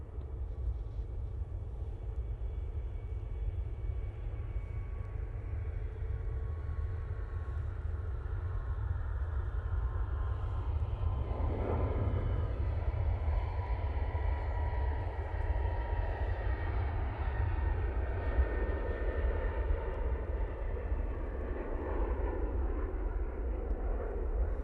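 A Gulf Air Boeing 787-9 Dreamliner landing at Manchester Airport makes a low, continuous distant rumble with a gentle whine, steadily building louder over the stretch, alone without voices.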